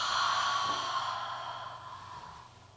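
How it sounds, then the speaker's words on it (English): A single long, deep breath drawn in, close and soft, swelling at first and slowly fading over a few seconds, with no talking. "Take a big breath in."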